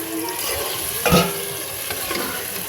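Biryani meat and spices with a little water cooking in a pan over a steady sizzle, with one prominent close spoon scrape and a few softer stirring knocks, no voices.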